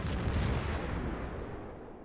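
Heavy naval guns firing in World of Warships, from a US Omaha-class cruiser shelling a destroyer: a loud, broad roar that fades and thins out over about two seconds.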